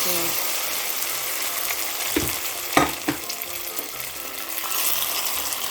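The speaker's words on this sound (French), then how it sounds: "je vais renverser ça maintenant dans notre marmite" Browned, sizzling fried ingredients are tipped from the pan into a cooking pot with banana for Cameroonian banane malaxée: a continuous frying hiss with a few clattering, splashing bumps midway.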